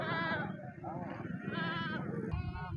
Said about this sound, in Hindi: और ये पहाड़ी दुम्बे हैं।